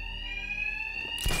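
A bank alarm rings loud and steady in Batman: Arkham Knight, a continuous electronic tone that holds throughout, joined near the end by a short burst of louder noise.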